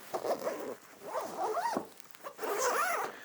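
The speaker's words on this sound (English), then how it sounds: "So if we go and unzip that," Zipper drawn open in several short rasping pulls along the back-panel sleeve of an Osprey Farpoint travel backpack, hiding the harness straps, close and clear with brief pauses between strokes.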